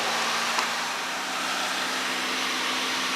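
Car engine held steady at about 2000 RPM during an oil flush, a constant whirring drone with a faint hum and no voices.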